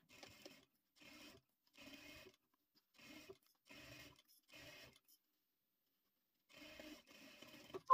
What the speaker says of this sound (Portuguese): eu vou vir e vou passar uma costura reta, com retrocesso no começo e no final